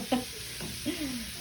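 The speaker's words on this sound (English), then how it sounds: "let's stir this up a little bit. And you get that bacon grease inside" A spoon stirs chili ingredients through hot bacon grease in a pot, giving two or three short scraping strokes over a soft steady sizzle, close and fairly quiet.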